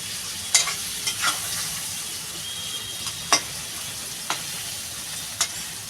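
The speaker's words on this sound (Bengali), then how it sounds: "এই সাথে মশলাটাও কষানো হয়ে যাবে আর মাছটাও ভাজা হয়ে যাবে।" Prawns fry in a coconut masala for a malai curry, a steady close sizzle punctuated by several sharp scrapes and clacks as a spatula stirs the pan.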